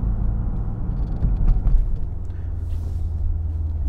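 A 2008 Lexus IS F with around 100,000 miles pulls under throttle, giving a deep, steady engine rumble that swells briefly midway and stays close and alone, with no talking.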